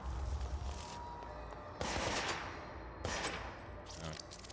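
Bursts of gunfire in the video game Control, three distinct volleys of rapid shots with ringing tails, played loud against a rumbling background.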